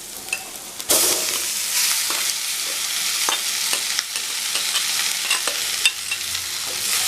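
Leftover rice stirred and fried in a pan with softened onions for tamarind rice, giving a steady close sizzle broken by irregular scraping clinks of the spoon against the pan, with no talk.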